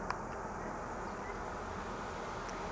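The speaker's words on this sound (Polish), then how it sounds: "pszczoły" Continuous low buzzing of many honey bees around a hive in an apiary at sunset in late April, steady and dense throughout with no voices.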